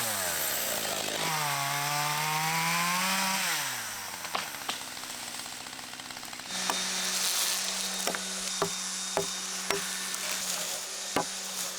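A chainsaw clears mimosa trees and oaks in Portugal in the early morning, revving up and falling as it bites, then idling with sharp cracks and snaps of wood between cuts, loud and close, with no talk.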